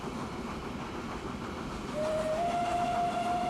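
Train rumbling along the track in the rail-management game Transport Fever, a steady mechanical roll joined midway by a sustained whistle-like tone that holds to the end, with no talk.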